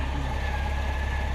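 Honda GoldWing touring motorcycle, a 900-pound bike, running its engine in reverse mode on an incline: a steady, close, low engine drone with an even hum throughout, no voices.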